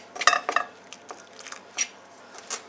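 Flour for jiaozi dough being mixed with boiling water in a bowl, heard as a few close clinks and scrapes of a utensil against the bowl, spaced irregularly, quiet between hits, with no voices.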